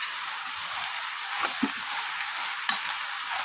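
Vegetable curry ingredients sizzle steadily in hot oil in a pan, a constant hissing fry broken by a few soft scraping stirs and one sharp tap, close and moderately loud without talking.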